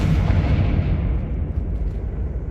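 A Confringo fire spell explodes in Hogwarts Legacy, a loud, dense booming blast that rumbles on for a couple of seconds and gradually loses its brighter edge.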